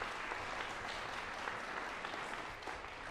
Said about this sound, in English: So please join me in giving them, that talented group, a round of applause and thanks as well.